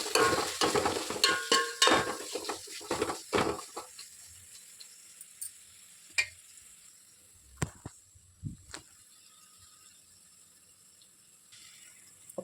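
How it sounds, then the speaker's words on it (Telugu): Garam masala is stirred into hot oil, with busy spoon scrapes over a soft sizzle at first, then sparser, scattered scrapes and clicks as the frying quiets down. "నూనె వేసుకొని కలుపుకుందాం."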